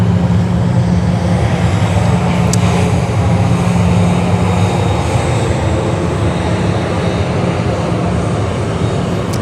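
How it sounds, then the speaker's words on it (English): United Airlines Boeing 777 at Sydney Airport during morning rush hour, a loud continuous jet engine rumble and roar that holds steady throughout. "There's the beautiful United 777"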